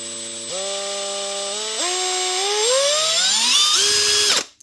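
An electric drill with a Japanese chuck runs alone, close and loud, its whine stepping up in pitch through several speed changes with a rough, uneven tone at low speed before cutting off.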